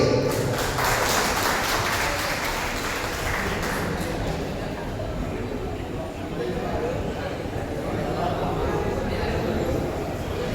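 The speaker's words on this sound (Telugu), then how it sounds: "అందరూ క్లాప్స్ కొట్టాలి." An audience at a mechanics' day festival keeps up continuous applause, a dense crowd clapping that lasts the whole stretch at moderate, distant loudness, with some murmured voices underneath.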